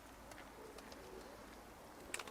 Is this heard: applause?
no